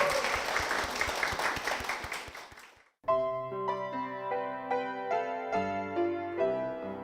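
A church congregation applauds together for about three seconds, the dense clapping fading out before sustained keyboard music takes over for the rest.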